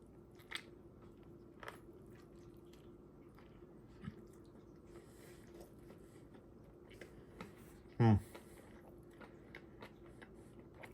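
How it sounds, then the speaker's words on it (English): Bites into a Burger King Whopper with tomato, sparse soft crunches and wet chewing sounds scattered across a quiet background, with one louder close bite-like burst near the end. "Gonna get a big tomato bite."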